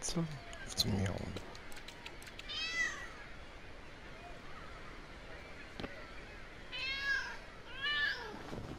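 Cat meowing in the Lego City Undercover video game: several short meows, a pair near the start and more toward the end, with game noise and speech around them.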